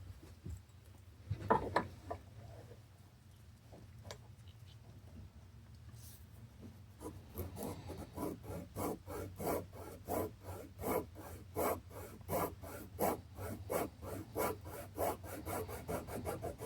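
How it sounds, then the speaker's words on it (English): Sandpaper rubbing new cork on a bass clarinet neck during a re-cork. Quiet, close rasping starts sparse, then settles into a steady back-and-forth stroke rhythm of around three per second, with a low hum underneath. "So definitely need to sand off some material"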